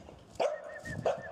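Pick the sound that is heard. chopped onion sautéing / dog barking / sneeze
dog barking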